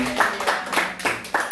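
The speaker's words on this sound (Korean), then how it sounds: "박수 한번." A church congregation claps together during a children's service, in a few quick rhythmic bursts of hand claps that sound close and fairly loud.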